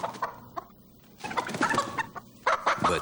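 Chickens cluck in a TV advertisement for Hardee's chicken breast strips, a run of busy, overlapping clucks and squawks, moderately loud and close, with no one talking.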